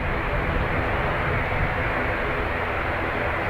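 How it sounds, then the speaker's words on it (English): An ATR turboprop airliner departing Dublin Airport for Edinburgh produces a steady, loud, dense engine drone that fills the short stretch without pause. "Our ATR is off to Edinburgh."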